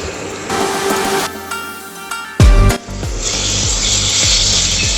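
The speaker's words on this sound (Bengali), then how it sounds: "সমস্ত মশলাটা এইভাবে নেড়ে চেড়ে ভালো করে কষে নিতে হবে।" Masala spices with chopped green chilli stirred and fried in a pan for Bombay duck curry, loud close scraping with a spatula, a sharp clatter midway, then steady sizzling.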